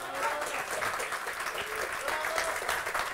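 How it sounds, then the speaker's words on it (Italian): Warm applause from an audience fills the room, a dense steady patter of many hands clapping throughout. "io le farei un caloroso applauso"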